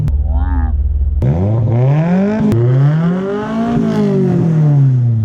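A turbocharged SR20 car engine is revved hard: an idle gives way to a loud, rising, high-pitched rev that holds and sweeps up and down for several seconds. It sounds close, raw and aggressive, with a sharp click or pop between revs.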